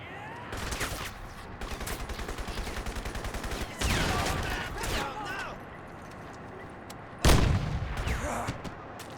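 A rifle in Crysis fires in rapid bursts, with dense rattling volleys and heavier booming blasts at intervals. The shots sit loud and close within game ambience.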